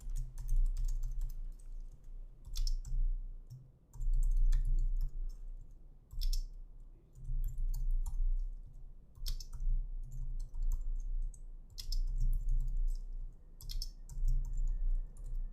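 Rapid typing on a computer keyboard while JavaScript code is being entered, with steady bursts of close key clicks and brief pauses between words and no speech.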